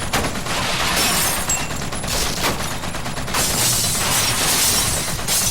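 Turrets in the video game WET fire loud, dense rapid bursts that run almost continuously, with crackling, shattering impacts layered over the steady barrage.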